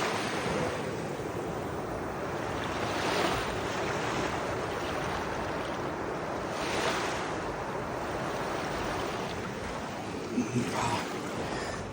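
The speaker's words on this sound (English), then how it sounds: "There's a surf right over there." Surf washing onto a tiny beach in Guam, a steady broadband wash of breaking waves with a few swelling surges, heard at moderate distance with some wind buffeting the microphone.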